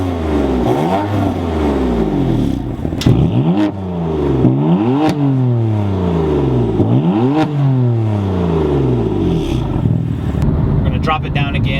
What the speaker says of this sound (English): it opens up so it breathes a little better and also gives a more aggressive tone to the exhaust